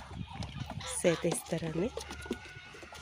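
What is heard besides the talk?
brooding hens clucking in nests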